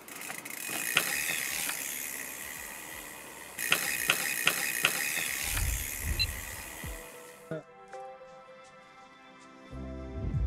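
Suspension bearings on a Scott Spark RC mountain bike give off a series of close mechanical clicks and ratcheting ticks, irregular at first, then a run of sharper metallic ticks and faint rattles.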